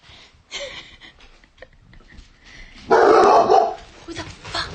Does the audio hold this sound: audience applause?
no